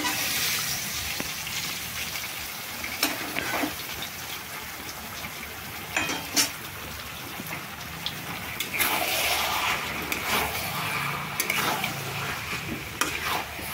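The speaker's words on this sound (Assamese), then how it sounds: "চয়াবিন ভাজিছোঁ।" Soybean chunks frying in a pan, a constant soft sizzle broken by repeated scraping strokes of a spatula as they are stirred, close and without talk.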